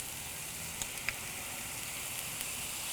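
Maple miso sauce sizzling on Scottish salmon set on a hot soapstone, heard as a soft, steady hiss with a few faint pops and crackles and no voices.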